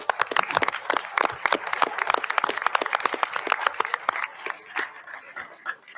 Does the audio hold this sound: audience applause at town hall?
yes